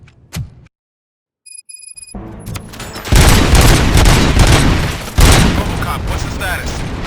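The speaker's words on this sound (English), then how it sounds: "Gunshots? What's going on?" Gunfire in the Robocop: Rogue City video game: after a brief quiet gap, heavy sustained shooting and booming bursts erupt loudly and continue with dense, rapid volleys.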